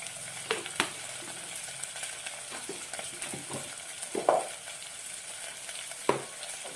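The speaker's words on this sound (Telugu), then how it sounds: "పేస్ట్, అది పచ్చి వాసన పోయే వరకు వేయించుకోండి ఫ్రెండ్స్" Ginger garlic paste frying in a pan for a green bean seed masala curry, a low, steady sizzle with scattered soft scrapes and clinks of a spatula, close and quiet, no voices.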